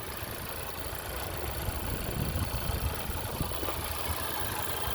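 A 2021 Honda Civic Type R Touring, front-wheel drive, idling steadily with an even, smooth engine hum heard up close and fairly loud, with no talking over it.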